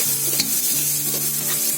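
Turmeric and red Konkani masala roasting in a pan, a steady close sizzle broken by brief stirring scrapes.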